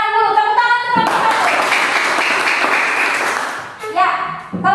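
Students in a classroom clap together for a group, a dense burst of applause lasting about three seconds, framed by a teacher's voice speaking before and after.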